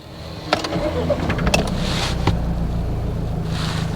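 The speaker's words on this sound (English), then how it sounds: "So let's start the engine." Mahindra Scorpio Classic engine cranks and catches with a couple of sharp clicks, then settles into a steady, low, refined idle rumble heard from inside the cabin.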